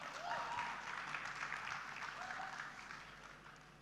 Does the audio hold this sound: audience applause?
yes